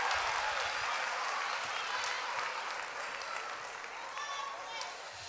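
Audience applause for three student leaders from John Marshall High School at a Say Yes to Education Cleveland event, a steady wash of clapping from a large crowd that holds throughout and fades slightly toward the end.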